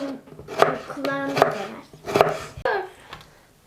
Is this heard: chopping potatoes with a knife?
yes